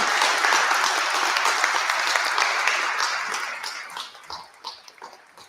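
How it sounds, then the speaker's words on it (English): A room full of people clapping for candidates at a municipal election debate in Edinburg, dense and loud at first, then tapering into scattered individual claps. "Let's give a round of applause to our candidates."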